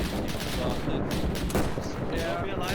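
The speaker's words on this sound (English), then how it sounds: "Now there's that squad right there shooting at him." Rapid bursts of gunfire from an enemy squad in the military video game Arma 3, set in a 1948 Arab-Israeli defense operation, crackle continuously at close to mid range with overlapping shots throughout.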